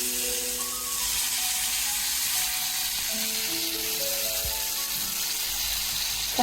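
Tomatoes sizzle in hot oil in a pan for chickpea lentil dal, a continuous close crackling hiss with occasional stirring and no voices.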